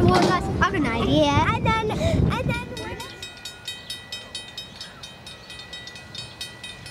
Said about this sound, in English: train's coming towards us